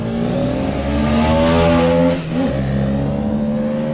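An engine revs hard as a rider speeds past, a loud, high-pitched whine that climbs, then dips briefly and drops lower as it passes close by.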